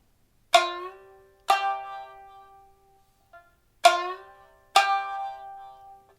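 Four sharp plucked shamisen string strikes, each ringing out and decaying, with a faint short slide sound from the plectrum moving between, isolated and close.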